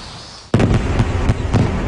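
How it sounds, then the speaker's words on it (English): Fireworks burst in a summer night sky over the Japanese countryside, a sudden loud blast followed by a rapid series of crackling booms, close and full, with no voices. "A summer evening, it's time for fireworks."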